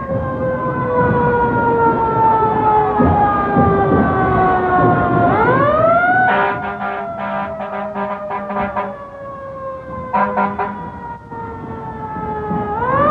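A fire truck siren in a Christmas parade wails loud and close, its pitch sliding down and sweeping back up, then broken bursts of horn blasts cut in before the wail resumes.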